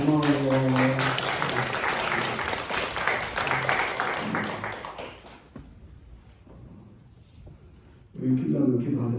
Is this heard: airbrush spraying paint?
no